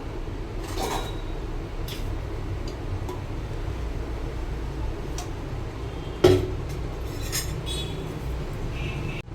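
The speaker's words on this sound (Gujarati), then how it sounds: "ગેસ ઓન કરીને આપણે તેના ઉપર લોઢી મૂકી દઈશું" An iron griddle (tawa) is set down on a gas stove in a home kitchen, giving one sharp metallic clunk over a steady low background hiss, with a few faint clinks around it.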